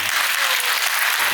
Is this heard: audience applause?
yes